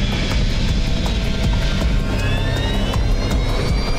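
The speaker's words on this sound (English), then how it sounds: "Just another routine takeoff." Airliner jet engines roaring during a takeoff roll, a steady, loud, broadband rush with a rising whine, continuous and close.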